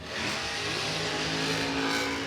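Monster truck at a stadium Monster Jam race, engine held wide open through a turn, a loud sustained roaring rev close by with gritty texture, alone.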